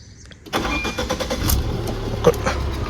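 A 2015 Tata Zest XMS petrol car cranks and fires on the first try, the starter whir giving way to the engine catching and settling toward idle, close and fairly loud.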